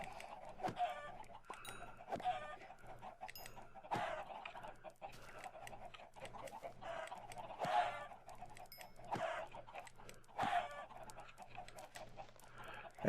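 Chickens in the Minecraft game squawk and cluck in repeated short bursts, several distinct calls spread across the stretch over a steady low background hum.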